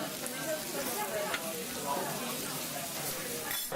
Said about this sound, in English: the spatula uses one in each hand to flip it onto the other side